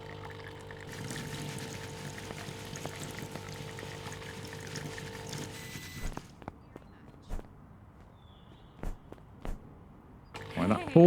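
Coffee pouring from a machine in the café simulation game Café Business Manager, a steady liquid stream running for about six seconds before giving way to scattered footsteps and clicks.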